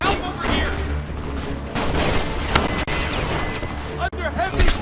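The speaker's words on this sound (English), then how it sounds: "Under heavy fire!" Heavy gunfire from Homefront rattles in dense, overlapping bursts with booming impacts, a chaotic battle din, while soldiers shout over it.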